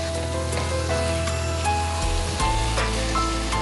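Onions and green chillies fry steadily in a pan, giving a continuous close sizzle with occasional soft stirring scrapes and no voices.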